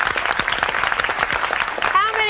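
A studio audience and panel clap their hands together in a steady round of applause, with voices talking over the clapping.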